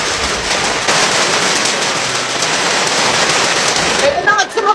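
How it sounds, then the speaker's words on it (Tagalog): Steady heavy rain pours down in a continuous broadband hiss, loud and close, with faint voices and a few brief sounds near the end. "Umuulan naman ngayon."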